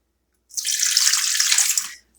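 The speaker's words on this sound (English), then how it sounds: "Pour in a cup of water." A cup of water pours into a Pampered Chef Quick Cooker pressure cooker holding eggs on an egg rack, a steady close splashing stream that starts abruptly and runs for about a second and a half before stopping.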